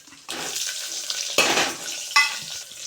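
Crushed garlic and onions hit a hot pan for tomato rasam, setting off a sudden sizzle that swells in bursts as they are stirred, with sharp louder surges partway through.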